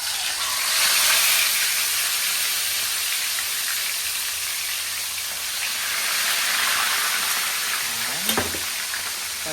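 Tilapia fillets frying in a pan of hot oil give a loud, steady crackling sizzle throughout, with a short utensil clink near the end and no talking.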